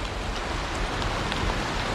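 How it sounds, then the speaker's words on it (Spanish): Steady cartoon rain pours over a forest as a dense, even hiss that stays constant and fairly loud from start to finish. "Y también lluvia."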